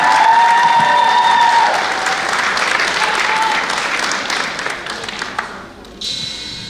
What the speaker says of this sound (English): Please, we make some noise for Molly Skinner.